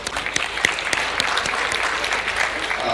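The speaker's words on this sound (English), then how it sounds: "I'd like to give a round of applause to NifNex for this wonderful event" Applause from an audience at a business expo opening, many hands clapping at a steady loud level with a few sharp nearby claps standing out, continuous for the whole stretch.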